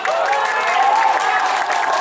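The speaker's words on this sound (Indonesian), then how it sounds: "Tepuk tangan yang mulia." Crowd clapping and cheering at an outdoor bull racing (karapan sapi) event, a short steady wash of applause with murmuring voices mixed in.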